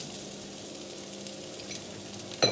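Peppers and green beans frying in a hot pan give a steady, moderate sizzle throughout, with a brief louder crackle and scrape near the end.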